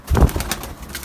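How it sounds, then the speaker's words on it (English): Pigeons perched on top of a chimney give a close, loud coo: a deep throaty burst followed by softer trailing notes, heard alone without talk. "the pigeons are all up there, up on top of the chimney"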